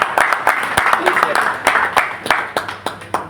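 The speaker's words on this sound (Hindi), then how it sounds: "जोरदार तालियां" Audience at a Bitcoin promotional event in Malaysia claps and cheers to welcome a guest onto the stage, with sharp individual claps standing out over a broad crowd wash and voices mixed in.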